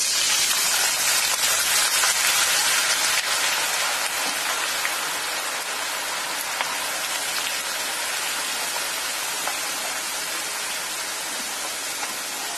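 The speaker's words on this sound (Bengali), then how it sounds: "এভাবে আমি এই আলুগুলো করে ভেজে নেব।" Shredded potatoes fry in hot oil for crispy jhuri aloo bhaja. The sizzle is loud, dense and continuous, like heavy rain on a surface, with no voices.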